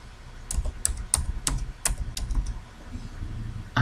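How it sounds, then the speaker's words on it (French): Keys clatter on a computer keyboard as someone fills in a PDF form, with a quick irregular burst of sharp close clicks that thins into lighter tapping toward the end, with no talking. "Après, vous tapez toutes les autres choses que vous voulez mettre."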